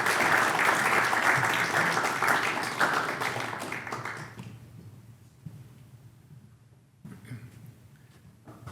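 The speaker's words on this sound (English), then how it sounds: "Thanks for the round of applause." A lecture audience applauds for a talk on insect decline, loud dense clapping for about four seconds that then fades into quieter room noise with a few stray claps.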